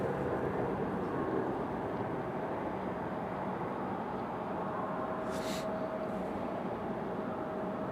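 Distant Delta CRJ regional jet rolling out after landing at Raleigh-Durham International Airport, a steady, far-off broadband jet roar that stays even throughout with no talking.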